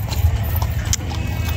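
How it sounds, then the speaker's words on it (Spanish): Horses in a large Mexican cavalcade clop along a road, with quick, uneven hoof strikes blending into a loud, dense crowd-and-traffic rumble. "Muy alto ese caballo."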